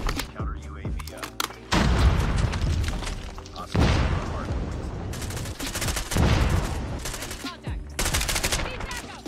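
Gunfire from a video game rattles in loud, sustained automatic bursts with booming impacts, several long volleys broken by short pauses, and a voice talks over them.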